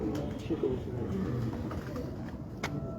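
Dubai teddy pigeons on a rooftop, cooing in soft repeated low calls amid steady background noise, with faint outdoor bustle throughout.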